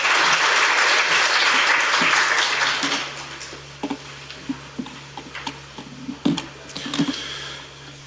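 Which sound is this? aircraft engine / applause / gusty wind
applause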